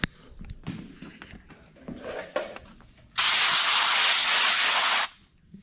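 A spray bottle set to mist wets newspaper, giving one steady, close hiss of spray that lasts about two seconds, following a stretch of quiet handling and rustling.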